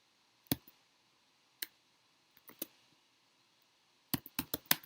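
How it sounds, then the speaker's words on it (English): Keystrokes on a computer keyboard: a few isolated clicks spaced about a second apart, then a quick burst of several taps near the end, faint and close with no talk. "I swear I'm a better typer than this."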